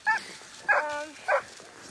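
Sled dogs at a snowy checkpoint in -40F cold give three short, loud yelps and howl-like barks, each separated by a pause, with faint background noise and no talking.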